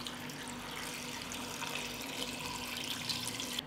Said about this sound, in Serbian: U šerpu sipam 2 litre vode.